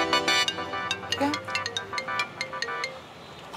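A phone rings on and on without being answered, a repeating electronic ringtone of short bursts heard fairly quietly, with faint voices in the background.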